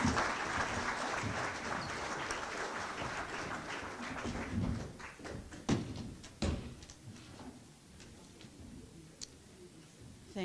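An audience at a Davenport city council and mayoral candidate forum claps for the candidates, starting as a dense sustained round of applause, then thinning into scattered individual claps before fading out.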